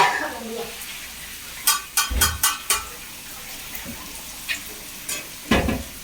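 Masala frying in a pan for beef curry, with faint sizzling and a series of sharp scraping and clattering stirring strokes in quick clusters, fairly close and moderately quiet.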